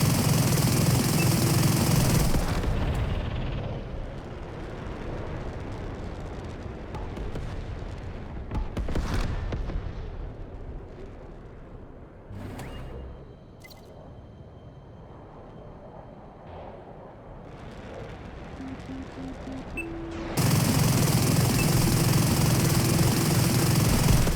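Jet fighter cannon and missile fire in the Metalstorm game, loud rattling bursts at the start and end framing a quieter stretch of scattered thuds and whooshes, with a voice speaking in between.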